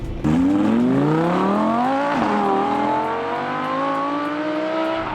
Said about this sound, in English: the exhaust pops savagely. It's just such a thunderous, loud noise.